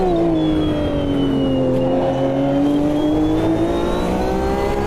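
A GTE race car engine in the Automobilista 2 racing game holds a loud, continuous high-revving howl, its pitch dipping and then climbing steadily through a corner, with no talking over it.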